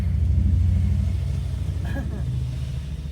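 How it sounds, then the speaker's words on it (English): Harley-Davidson motorcycles on a road on Maui pass with a deep, steady low rumble that fades slightly as they go by, and a person speaks briefly over it. "Here's the Harleys."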